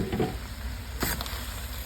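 Cabbage for bihon stir-fries in a pan with a soft, steady sizzle and some brief scraping stirs, fairly quiet with no voices.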